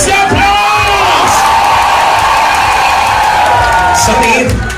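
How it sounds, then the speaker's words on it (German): Crowd at a birthday celebration cheering, whooping and yelling loudly and continuously close by, a dense roar of voices sustained throughout with shouts rising above it. "wo ist der Applaus?"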